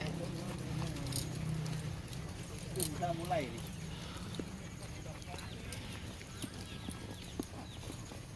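Horse hooves clip-clopping on the ground just after a run, scattered irregular steps mixed with snorts and stable noise, heard under steady talk from nearby people with background chatter.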